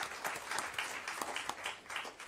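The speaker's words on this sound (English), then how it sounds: "I'll start out by giving them a hand clap today" A school board meeting audience applauds returning students, a steady, moderately loud patter of many hands clapping with no talk over it.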